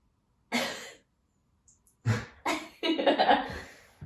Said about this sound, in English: Give us a cough.